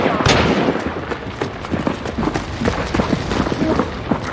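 Shotgun blasts ring out in the first-person shooter Hunt: Showdown, a few loud booming shots and impacts over continuous game noise, with players talking over the action.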